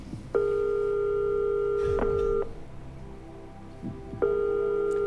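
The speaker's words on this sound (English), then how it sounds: "That's funny, that's a foreign ringtone." A foreign-style telephone ringtone rings close and clear as a steady tone, then repeats a moment later after a brief pause, with no one speaking.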